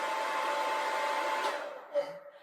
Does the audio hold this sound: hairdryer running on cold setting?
yes